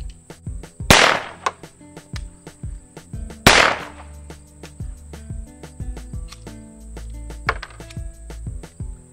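A semi-automatic pistol shooting Pyrodex black powder rounds: two loud close shots early and a fainter third later, with scattered metallic clicks and clatter between them.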